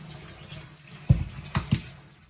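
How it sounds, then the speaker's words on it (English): Hot water is poured into a container with a few drops of soap for cleaning hair tools, heard as several short splashing pours over a low background hiss. "we got the hot water, right? Pour that in"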